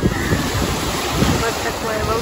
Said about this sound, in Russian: Вот такое волшебное море.